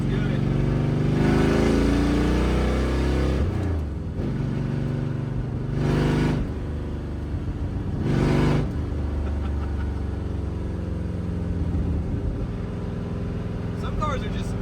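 A forgotten Dodge Dart with a V8 and four-speed revs and pulls hard at a drag strip, its engine note rising and falling in repeated surges, with someone talking throughout.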